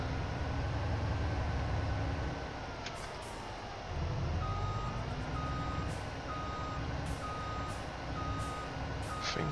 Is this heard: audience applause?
no